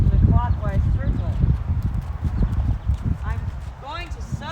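A Rocky Mountain horse walks in a circle, its hooves clopping in a steady rhythm at close range while a rider talks over it and a few bird chirps sound in the background.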